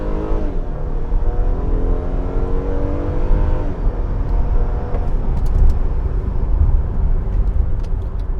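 A 2014 Acura TL's engine revs and accelerates steadily, the pitch climbing and then dropping as gears shift, with loud continuous road and engine noise throughout.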